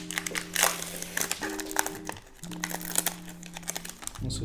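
Crackling plastic packaging of a Pokémon card pack with old adhesive tape stuck on it, crumpled and crinkled in quick close bursts over a humming background.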